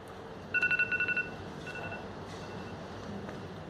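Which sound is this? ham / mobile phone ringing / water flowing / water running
mobile phone ringing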